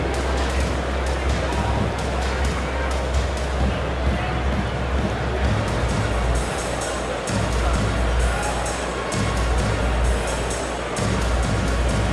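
Dense crowd noise with a steady roar of cheering and clapping in a large basketball arena in NBA 2K23, continuous and loud throughout.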